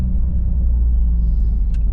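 A 2022 Subaru WRX fitted with a Perrin low profile intake pulling ahead at low RPM, a steady loud low engine rumble from inside the cabin with no voices.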